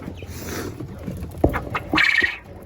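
A caged bird calls in a loud, harsh burst of chirping, close by over a steady background of rustling and noise, with short sharp notes just before it.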